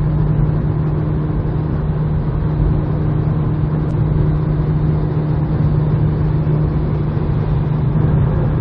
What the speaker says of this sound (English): here is what the Rhino rack sounds like